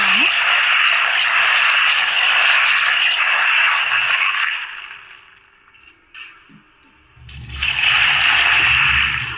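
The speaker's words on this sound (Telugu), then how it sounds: "వాటర్ వేసుకొని నానబెట్టుకుందాము" Water gushing steadily onto peanuts being soaked for sprouting, a continuous broadband pour that stops briefly midway and then resumes, close and fairly loud.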